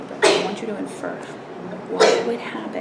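A sharp, close sneeze bursts out in a classroom during a lesson on forest ecosystems. A second loud burst follows near the end, both cutting over a teacher's steady talking.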